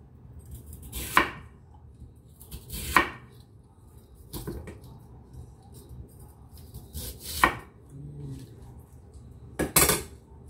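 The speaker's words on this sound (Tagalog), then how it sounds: "Hiwain natin ng ganito kaninipis." Knife slicing lotus root into thin pieces on a cutting board, with five sharp, close chopping strikes spaced a second or two apart over a low background hum.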